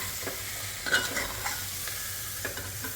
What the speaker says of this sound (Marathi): आता आपण त्यामध्ये डाळ आणि तांदूळ घालूया